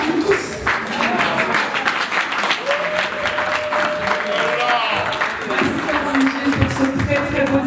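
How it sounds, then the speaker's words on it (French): Loud, sustained applause from guests at a 50th birthday celebration after a speech, dense clapping close by with voices and cheers under it. "Applaudissez, merci d'applaudir."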